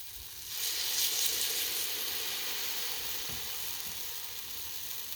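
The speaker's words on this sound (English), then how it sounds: "Ah, the sizzle is there." Pancake batter hitting a hot pan in a home kitchen, a close, loud, steady sizzle that swells in after a quieter start and holds a dense frying hiss throughout, with no talking.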